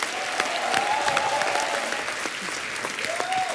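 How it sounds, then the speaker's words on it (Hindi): A studio audience on The Kapil Sharma Show gives Salman Ali a sustained, dense burst of clapping, with a few voices calling out faintly beneath it. "जोरदार तालियां सलमान के लिए।"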